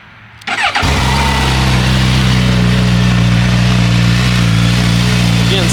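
A 2024 Suzuki Katana motorcycle on its stock exhaust fires up with a short starter crank, then settles straight into a loud, close, steady low idle.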